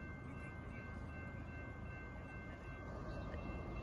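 A CSX ES44AH freight locomotive leading a freight train gives a steady, distant rumble of engine and rolling cars with a faint continuous tonal hum, low in level and unchanging throughout, with no voices.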